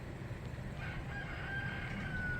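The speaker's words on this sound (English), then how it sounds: "yes, that's a rooster crowing" A rooster crows in the distance on a cool early morning in a residential neighbourhood of Vlore, Albania, heard from a balcony as a faint drawn-out call over quiet ambient background.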